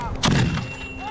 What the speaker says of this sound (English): The ball and chain shot out of the cannon okay